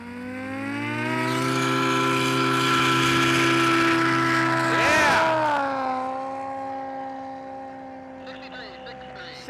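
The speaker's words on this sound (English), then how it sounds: "This is another one of those Yamaha Apex 300 horsepower snowmobile engines. Extremely loud." Light airplane powered by a 300-horsepower Yamaha Apex snowmobile engine, roaring loud and steady through a very short STOL takeoff, its harmonic drone dipping and shifting pitch midway, then holding as it climbs away at an airshow.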